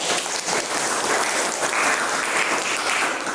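A room full of people claps steadily, a dense and even round of applause with no talking over it.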